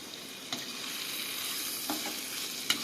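Broad bean curry sizzles steadily in a frying pan after salt is added, and a spoon scrapes and stirs it in a few brief strokes. The sound is close and fairly soft, with no talk.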